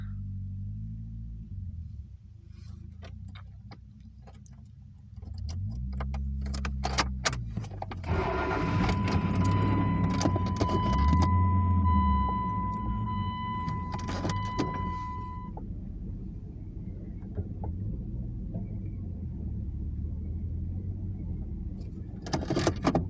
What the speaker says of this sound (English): to move my car up a little bit